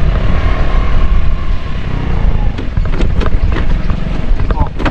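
A boat motor runs steadily and loudly throughout, a dense low rumble with rattling and knocking bursts in the second half; no one talks over it.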